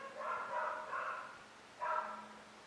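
A dog barks in the background, with two clusters of muffled, fairly faint barks separated by a short gap and no talking.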